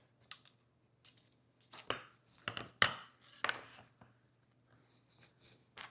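An apple cutter slices through raw potatoes in a kitchen, giving irregular crunching, snapping cuts of varying loudness with quiet gaps between them, close and fairly faint, with no talking.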